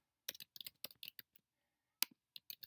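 Someone types a short post on a computer keyboard: quick, close clusters of crisp key clicks, a pause, then a single sharp tap and a few more keystrokes, all in quiet surroundings.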